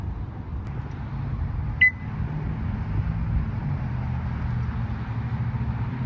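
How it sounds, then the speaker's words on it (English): A single short electronic beep sounds from an EV charging station fitted with a NACS adapter on a 2025 Chevrolet Equinox EV, a brief tone over a steady low hum and outdoor rumble. "I heard a beep. I think it started to charge."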